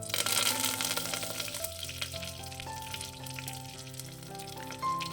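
Mustard seeds, cumin, dried red chillies and curry leaves crackling in hot oil for Udupi rasam, a bright sizzle that is loud at first then settles, with soft background music tones throughout.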